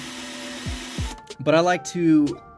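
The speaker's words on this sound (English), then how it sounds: "I'm using a 1/4 inch drill bit" A short burst of whirring drill motor noise from a quarter-inch bit drilling a Hot Wheels die-cast toy car opens, then cuts off as a person begins speaking.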